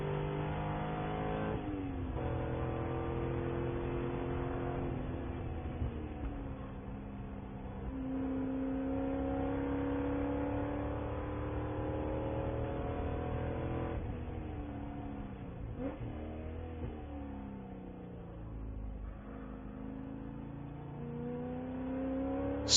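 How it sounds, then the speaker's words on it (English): Spec Corvette race cars lapping at Sonoma Raceway, engines roaring continuously with rising and falling pitch through gear changes, several cars overlapping at moderate distance, no talk. "So many different kinds of cars out on the racetrack here."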